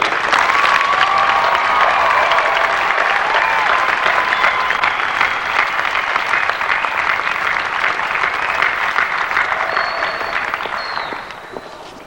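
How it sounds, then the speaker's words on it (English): Conference audience at a state FFA leadership conference applauds loudly and steadily for about eleven seconds, a dense wash of clapping that fades out at the end. "we owe last year's team one more final round of applause for the awesome job they did"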